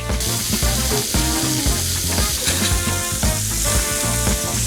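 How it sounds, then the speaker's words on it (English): Burger patties searing in a ripping hot pan give a loud, steady sizzle and crackle that runs through the whole stretch, dense and close, with faint clatter and a low background hum underneath. "now we're gonna put these into a ripping hot pan"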